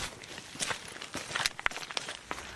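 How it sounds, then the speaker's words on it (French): Pilgrims' footsteps on a walking route in the Holy Land, an irregular patter of steps and scuffs at moderate distance over a busy outdoor background, with no clear talk. "Alors Étienne, on entend les bruits de pas derrière vous"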